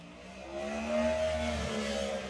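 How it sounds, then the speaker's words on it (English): A motorcycle passes by, its engine a rising then fading hum with a slight pitch shift as it goes, moderately faint in the distance with no talking. "I think that was a motorcycle"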